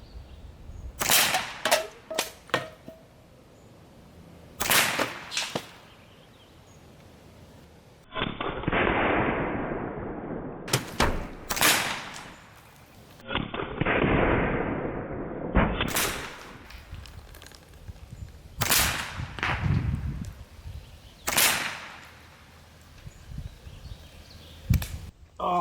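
Hatsan Velox semi-auto PCP air pistol fires at cans in several sharp, loud cracks, some in quick pairs, with metallic pings of hit cans between shots and stretches of steady outdoor noise, no voices.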